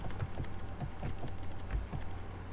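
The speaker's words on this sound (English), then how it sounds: "Here you need to type ipconfig" Typing a command on a computer keyboard, the keys clicking in a steady run of taps through the whole stretch.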